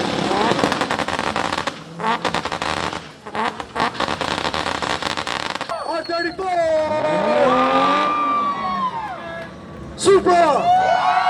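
Several JDM cars drifting, including a Toyota Supra and a Nissan R34, with loud engine roar, revving and tire squeal. Crowd voices and shouting are mixed in, and the intensity rises and falls across the run.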